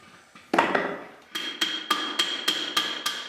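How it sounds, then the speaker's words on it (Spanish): Round smooth-faced hammer planishing a handmade copper cauldron over an iron stake, one loud blow and then a steady run of six evenly spaced ringing metallic strikes, close and clear with no talk. "Picar el caldero consiste en golpear pacientemente el fondo y el cuerpo con un martillo redondo que tiene la boca lisa"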